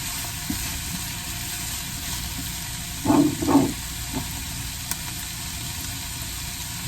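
Brussels sprouts stir-fry in a pan with maple syrup, a steady close sizzle and hiss running throughout, with a couple of brief soft knocks midway and no talking.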